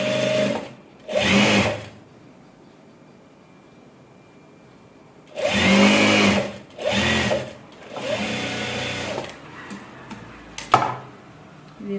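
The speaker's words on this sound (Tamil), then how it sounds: "இந்த கோடு போட்டதில் அப்படியே ஒரு ஸ்டிச் போட்டுக்கணும்." A sewing machine stitches a blouse along a marked line in short bursts of rapid, buzzing running, stopping and starting several times with quiet gaps and a few clicks in between.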